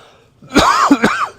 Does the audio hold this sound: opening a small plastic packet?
no